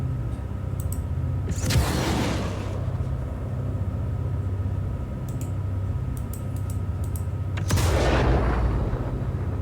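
A Storm vehicle in a video game fires missiles one at a time: two sharp, whooshing launch blasts spaced about six seconds apart over a constant low engine rumble, with faint clicking in between.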